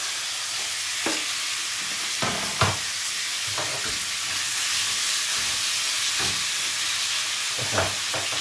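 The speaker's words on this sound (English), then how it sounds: "you hear that noise? You want that sizzle." Steady loud sizzling of meat stir-frying in a hot pan, with occasional scrapes and clatters of stirring.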